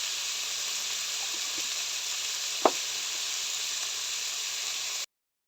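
Mixed winter vegetables frying in a pan, a steady bright sizzle with one sharp clink partway through, heard alone, then cutting to silence at the end.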